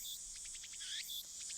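Cicadas chirping from a few trees at a small Tokyo shrine in the Steins;Gate video game, a steady high insect trill with pulsing chirps throughout, close and continuous with no talking.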